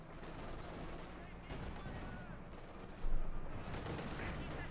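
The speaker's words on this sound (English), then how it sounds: "immediately suffering a heavy fusillade there" A heavy fusillade of gunfire breaks out in the Company of Heroes 2 World War II strategy game, with Soviet T-34 tanks facing German Panzer IVs. Dense rattling shots sit under a steady battle din, and one louder burst comes near the end.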